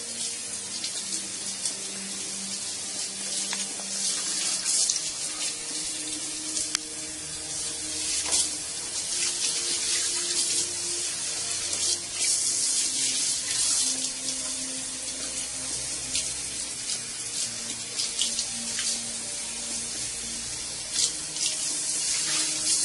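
Cold water runs steadily from a tap to rinse a natural human-hair wig, a close, constant hiss and splash with slight shifts as the hair moves under the stream. No voices are heard.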